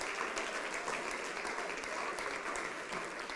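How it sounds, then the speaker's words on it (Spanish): A church congregation claps in a dense, sustained round of applause that holds steady for several seconds, filling the room evenly with no single voice standing out. "round of applause."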